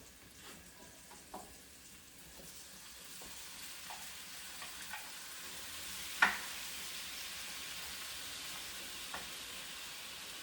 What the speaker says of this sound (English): now I'm going to drop in this tomato